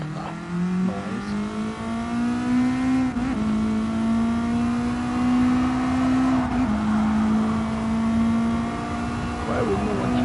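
Race car engine in the video game GT Sport, a sustained high whine rising and shifting through gear changes, loud and continuous with no speech.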